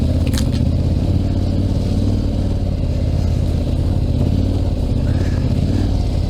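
KTM adventure motorcycle on a slippery enduro track at an endurance race event, its engine droning loud and close throughout with steady revving and some wind noise.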